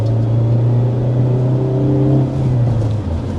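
A 2025 Hyundai Elantra N engine holds a steady, loud rev with a deep droning tone and layered harmonics, easing slightly near the end, close up with no talk.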